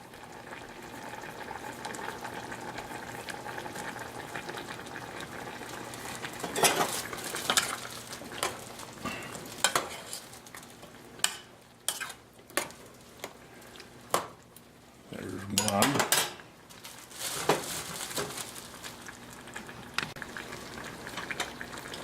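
A spoon stirs a wet squash casserole mixture in a pot, with soft squelching, scraping and clinks against the pot over a low bubbling background that grows busier midway.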